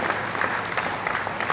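Sustained applause from a conference crowd at a Lagos property event, a thick continuous patter of many hands that holds at one level throughout, with no talking over it.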